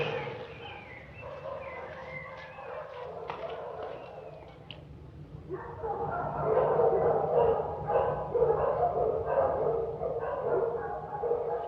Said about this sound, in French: Ces chiens.